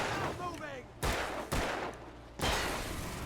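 Gunfire in the Alan Wake video game, with three or four heavy shots spaced roughly half a second to a second apart over a constant din of action, and some speech mixed in.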